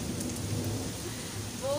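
Heavy, sudden storm rain pours down with thunder and wind, a steady dense roar of falling water over a low rumbling undertone, loud and continuous with no voices.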